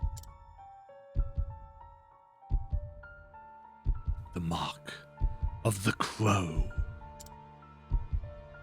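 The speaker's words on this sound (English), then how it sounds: "Including the heartbeat sound effect." Heartbeat sound effect in the video game Octopath Traveler, slow paired low thumps repeating at a steady pace beneath music, with a voice speaking over the middle.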